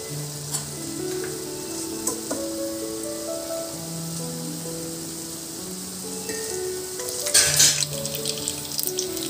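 Tempering spices, garlic and dry red chillies sizzle in hot oil for a home-cooked dal rasam, giving a continuous close frying hiss with stirring clatter and a brief louder burst of spatter.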